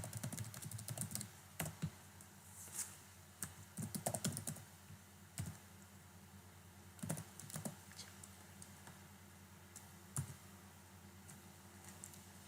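Scattered keystrokes on a computer keyboard as a command is typed, soft irregular clicks in small clusters separated by pauses, close and quiet.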